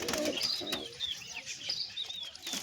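Domestic pigeons, including a white pair, perched together at a loft give soft coos and chirps with occasional wing flutters, fairly close and continuous, with no talking.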